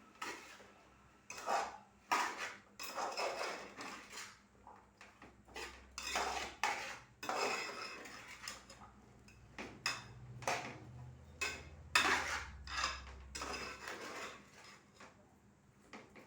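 A utensil stirs salted food in a pot during zero-oil cooking, making repeated close clinks and scrapes of metal against the pot in irregular bursts, fairly quiet, with no speech.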